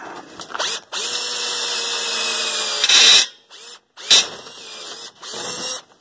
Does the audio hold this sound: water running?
no